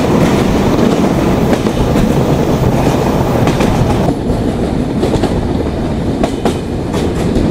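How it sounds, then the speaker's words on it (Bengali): Simanta Express intercity train running through Sabdarpur railway station at night, a loud continuous roar of rolling wagons with rhythmic clickety-clack of wheels over rail joints, heard close from aboard. "আন্তনগর Simanta express through pass Sabdarpur railway station"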